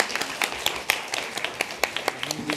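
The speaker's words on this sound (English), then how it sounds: "Let's give him a big round of applause" An audience at a game developer talk claps after the presentation ends, a sparse scattering of separate, moderately close hand claps at an uneven rhythm without talk.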